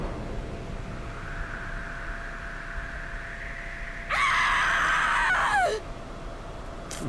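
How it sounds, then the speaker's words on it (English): A single shrill, loud scream from a character in Final Fantasy XIV: Stormblood, lasting under two seconds and falling in pitch at the end, heard over a steady low background hum of game ambience. "That was not the scream of a girl."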